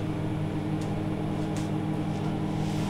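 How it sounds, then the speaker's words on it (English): A microwave oven runs with a steady low electrical hum and droning mechanical tone, constant and unbroken. "I put it in the microwave, and then I do it 3 times for 1 minute"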